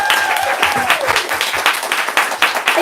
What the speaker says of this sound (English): let's give these two one more round of applause